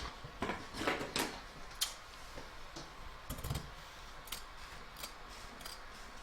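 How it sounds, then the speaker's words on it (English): Scissors trim excess fabric from a machine-embroidered in-the-hoop evening bag, with about a dozen crisp, irregular snips at close range, quiet and isolated, with short pauses between cuts. "I'm now going to just trim up some of the excess on this side"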